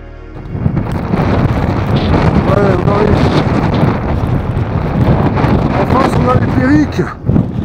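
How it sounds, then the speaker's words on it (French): Strong headwind in the Pyrenees roaring and buffeting a microphone, loud and continuous, with a person talking faintly underneath. "Moi j'ai le vent de face en plus"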